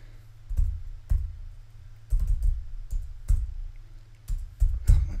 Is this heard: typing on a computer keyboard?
yes